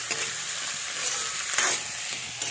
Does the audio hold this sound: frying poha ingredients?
yes